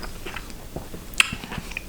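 Close, soft chewing of octopus spaghetti in a Mediterranean-style seafood sauce with olives and capers, with small wet bites and one sharper crunchy click partway through.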